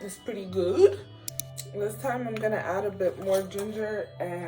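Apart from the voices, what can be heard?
No distinct noise like a dog, phone or traffic.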